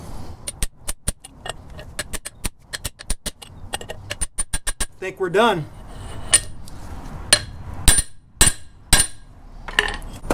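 Sharp metallic blows of a ball peen hammer drive a press sleeve home on a Toyota first-generation 4Runner solid front axle, a rapid series of ringing strikes with brief pauses and a short spoken remark midway.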